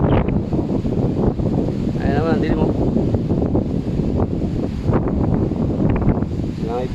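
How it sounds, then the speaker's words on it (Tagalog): Strong wind blowing across an open field during sweet potato planting, a steady loud rush buffeting the microphone throughout while someone talks over it. "lumakas na yung hangin, oh. Lakas ng hangin."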